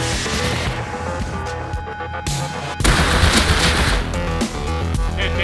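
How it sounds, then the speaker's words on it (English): Gunfire rattles through a Rust fight in loud, close bursts over a bed of music and game noise. A sharp burst hits midway, followed by more sustained shooting. "He's trying to shoot me."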